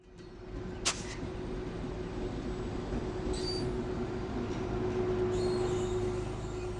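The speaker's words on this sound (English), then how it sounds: "Of course, we'll travel by train on the Ghan." The Ghan passenger train rolling through the Australian outback, a steady low rumble of wheels on track with a sustained hum, a brief sharp metallic click early on and faint squeals later.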